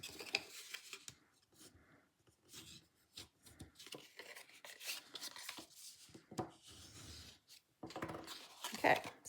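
Bone folder pressed and dragged along the score lines of a paper card, soft scraping and rubbing strokes in uneven bursts with brief papery rustles, close and quiet.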